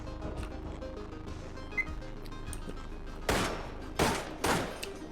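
Gunfire in the video game Receiver: three loud, sharp gunshots ring out close together in the last two seconds, each with a short echoing tail, after a stretch of quieter background noise.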